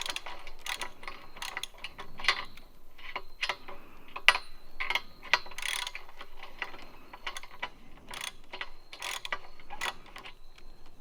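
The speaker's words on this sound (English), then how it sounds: "Socket wrench." A socket wrench ratcheting while a bolt is worked on a deer feeder, quick bursts of sharp metallic clicks in an irregular rhythm, close and moderately loud.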